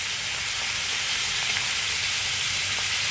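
Watermelon rind frying in a pan gives off a steady, close sizzle with a bright hissing texture and faint stirring clicks, continuous with no voices.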